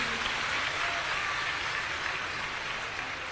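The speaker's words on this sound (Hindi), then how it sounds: "तालियां बजाइए पूरी टीम के लिए" An audience at a Shrimad Bhagavat Katha religious gathering breaks into dense, sustained applause, a loud, even wash of clapping with no voices heard.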